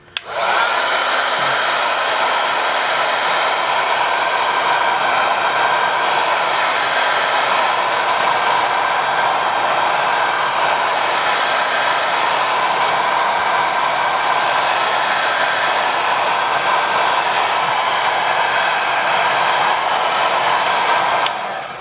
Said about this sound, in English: you just need to use heat gun to heat it up the side